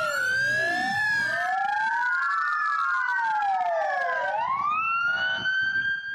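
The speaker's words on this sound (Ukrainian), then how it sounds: "Ровно в полдень на 5 минут включаются сирены." Several ambulance sirens wail together at noon in Ukrainian cities, overlapping rising and falling tones sweeping loudly and continuously, close and unbroken.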